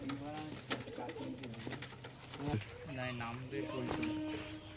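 Pigeons in a loft coo in repeated low, throaty phrases close by, overlapping one another, while a person talks in the background.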